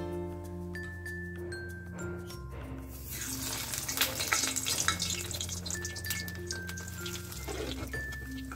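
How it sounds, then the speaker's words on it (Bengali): Chicken cutlets fry in hot oil with a strong, steady sizzle that swells in the middle, accompanied by occasional light clinks of utensils and a sustained background tone. "হয়ে গেল কাজী ফার্মস কিচেনের চিকেন কাটলেট ফ্রাই।"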